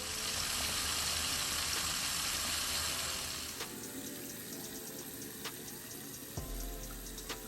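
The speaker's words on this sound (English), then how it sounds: "So I'm gonna go ahead and rinse this out." Tap water runs steadily and loudly from a faucet into a sink while a lace wig is rinsed under the stream, the flow shifting in tone partway through with a few small clinks.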